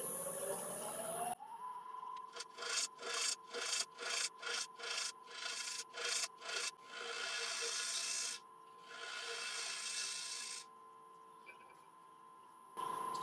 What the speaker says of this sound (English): So I'm just going to start off with a 3/8 ball gouge, 3/8-inch ball gouge.